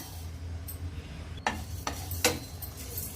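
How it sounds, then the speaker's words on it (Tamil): Red rice roasting in a pan for black urad dal ladoo gives a few sharp, distinct pops and crackles over a low, steady stovetop hum, the popping sparse and fairly close. "சிகப்பரிசி பொரிய ஆரம்பிச்சிருச்சுங்க"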